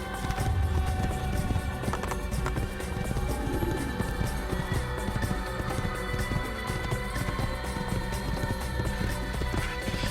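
Horse hooves gallop in a steady, continuous clip-clop rhythm while riding through the Assassin's Creed video game world, loud and close under a dense bed of game music and ambience.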